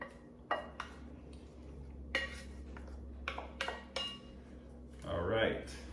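Spoon clinks and scrapes against a bowl as bulgogi marinade is mixed into meat, a series of sharp taps with a soft wet stirring swish near the end, over a faint background hum.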